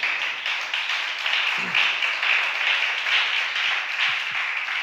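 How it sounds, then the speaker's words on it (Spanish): A church congregation claps steadily in sustained applause, a dense even patter filling the room throughout. "Dale un aplauso al Señor entonces."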